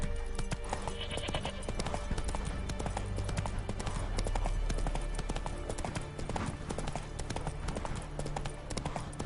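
Hoofbeats of Roach, a horse in The Witcher 3, pound in a steady galloping clip-clop, loud and continuous, with a brief whinny over a game soundtrack.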